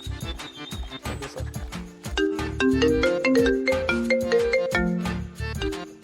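A phone ringtone plays a bright repeating melody with a clip-clop beat, loud and close, with no talking.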